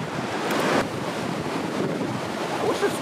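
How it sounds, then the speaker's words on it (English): Rushing water at the edge of a Yosemite waterfall roars as a steady, loud broadband wash, with wind buffeting the microphone throughout and no talk. "Oh wait, that's the edge of the waterfall, right?"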